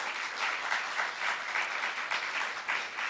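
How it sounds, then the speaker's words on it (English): An audience at a candidates forum claps for two city attorney candidates, producing dense, sustained applause at moderate volume throughout. "Give them a round of applause."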